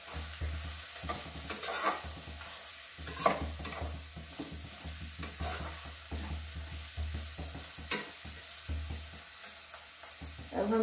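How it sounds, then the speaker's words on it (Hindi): Semolina and mashed potato kachori filling being stirred together with chaat masala and sambar masala, a steady scraping, stirring rhythm with soft clinks of the spoon against the bowl, close and moderately quiet, no talking. "सबको मिक्स कर लेंगे अच्छे से"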